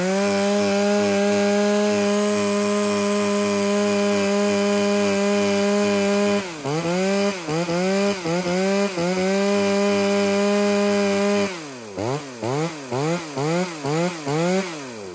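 Used Japanese chainsaw, a Stihl, Shindaiwa or Echo, idling loudly and steadily, then revved in a series of rapid throttle blips, settling and revving again in quicker repeated bursts toward the end.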